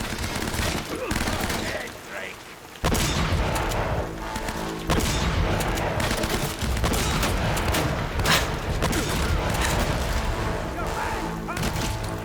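Enemy gunfire in Uncharted: Drake's Fortune: repeated loud shots and bursts land in heavy combat noise, with a short quieter lull early and talking mixed in over the shooting.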